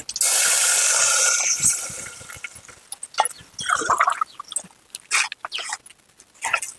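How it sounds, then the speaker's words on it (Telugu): Water poured from a glass into flour for Telangana-style kuttu pindi, a close splashing pour for the first two seconds, followed by wet mixing and clinking sounds. "ఒక గ్లాస్ పిండికి ఒక టింబా వాటర్ పోసుకోవాలి"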